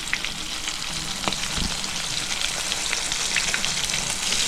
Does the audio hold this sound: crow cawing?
no